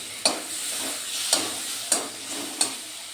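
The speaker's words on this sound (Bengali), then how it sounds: "টমেটোগুলো দিয়েও আমি একটু কষিয়ে নেব।" Tomatoes being stir-fried in a pan: a steady sizzle broken by four sharp spatula scrapes against the metal at roughly regular intervals, close and clear, with no talking.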